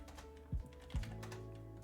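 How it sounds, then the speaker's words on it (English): Keys clatter on a computer keyboard during a word-guessing game, a few quick taps with two louder strikes standing out over a steady background hum. "I know we're typing in a lot of words."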